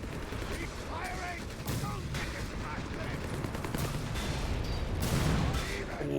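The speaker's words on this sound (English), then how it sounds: "Oh, Marder's getting some good hits there on the Sherman." Dense tank-and-gunfire battle in Company of Heroes, a Marder hitting a Sherman amid a P4 command tank and Flame Panzer III: continuous overlapping shots and explosions, loud and busy throughout, with faint commentary underneath.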